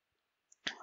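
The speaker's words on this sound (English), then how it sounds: "let's right click on this employee table" A single computer mouse right-click, quick and close, one small tick followed by a brief soft burst in an otherwise quiet room.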